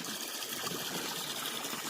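Water gushes steadily from a hose into a tank during freezing weather, a continuous close splashing rush with no pauses or talk.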